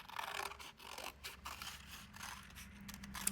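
Scissors rough-cutting a paper heart for a Valentine art card, a series of quiet crisp snips and paper rustles close by, irregular and faint.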